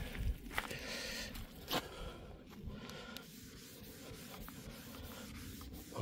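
Shine plastic restorer is rubbed onto the exterior plastic trim of a BMW E46 or E90, giving a soft, continuous scrubbing rasp with a few sharper swipes, close and quiet.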